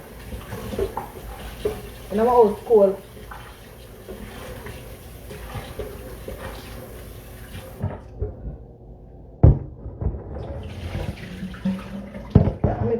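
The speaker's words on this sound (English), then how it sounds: "So I'm going to throw out the water and wash my meat." Water splashes and runs in a kitchen sink as cooking water is poured off and raw meat is rinsed under it, irregular wet sloshing and clatter mixed with a person talking throughout.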